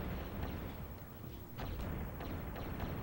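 A grenade explosion in the Nintendo 64 shooter Turok: Dinosaur Hunter: broad, booming blasts with rumbling low end, repeated over the clip, set in steady game audio with no talking.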